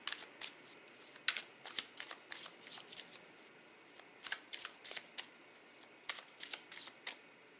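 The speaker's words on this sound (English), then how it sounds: "So I'm going to pull you an extra card." Tarot cards are shuffled in quick bursts of riffling and flicking, close and fairly quiet, with brief pauses between the clusters of sharp card snaps.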